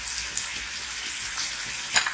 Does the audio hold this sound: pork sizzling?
yes